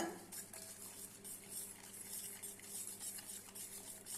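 A spoon stirs and clinks against a vessel while mixing a panakam drink of jaggery water with dry ginger and cardamom, quiet light taps and swirls repeating through the clip with no voices.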